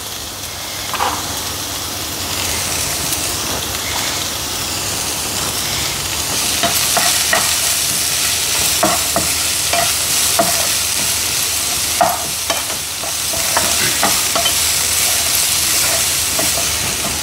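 Beans and carrots stir-fried in a home kitchen pan for fried rice, a steady loud sizzle with repeated scraping and clinking strokes of a spatula stirring the vegetables.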